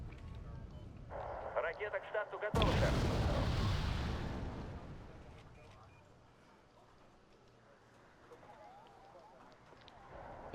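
Missile launches in the Red Dragon strategy game, heard as a sudden loud roaring burst that holds for a couple of seconds and then fades into a long rumbling tail, with other game sounds before it.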